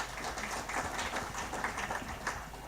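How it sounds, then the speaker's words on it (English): Audience applause at an Afreximbank trade-fair roadshow event in Kenya: a steady, dense wash of clapping from a sizable crowd that holds evenly for the whole stretch without fading. "Another round of applause for him, please."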